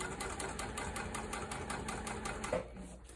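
A sewing machine top stitches a wide tote bag, its rapid, even mechanical chatter pulsing close and steady before it slows and stops near the end.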